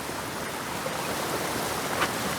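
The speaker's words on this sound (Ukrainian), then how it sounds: "Тут ще водопадик є невеликий." Steady rushing water from a small waterfall, a continuous broadband splash with no voices.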